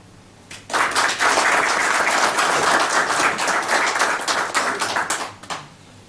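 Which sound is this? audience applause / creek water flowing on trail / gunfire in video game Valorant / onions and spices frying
audience applause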